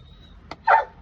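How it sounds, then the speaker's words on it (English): A dog gives one short, sharp bark indoors, preceded by a faint yip or whimper, against a quiet background with no talking. "See, she's telling Goldie, you know, she wants up there."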